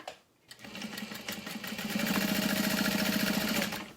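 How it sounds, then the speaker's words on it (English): A sewing machine top-stitches through thick leather for a clutch wallet, starting after a brief knock and settling into a fast, even mechanical chatter that runs steadily close by before slowing at the end. "it's such thick leather that I'm just gonna stitch along the top"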